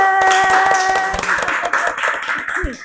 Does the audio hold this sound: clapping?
yes